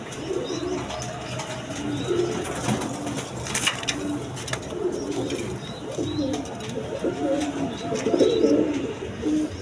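A pair of colored Golla pigeons coo close by in soft, repeated low rolling phrases, with a few faint chirps and light rustling between calls.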